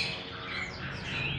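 A competition canary sings on its perch, a rapid, dense stream of chirps, trills and squawky notes heard close and continuous, with no talk over it.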